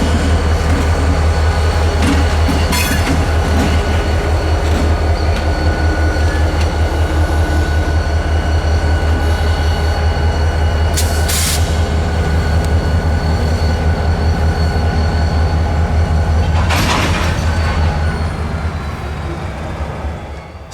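FEC GP40-2 locomotive 425 moving slowly onto a waiting cut of rock hoppers in a rail yard, with a loud, steady diesel rumble throughout, a few sharp metallic clanks and squeals, and the sound easing off near the end.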